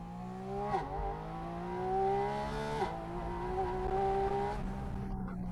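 A Porsche accelerates hard with its engine note climbing in repeated rising sweeps, each broken by a brief shift, as the wheels lose grip and the tyres faintly squeal.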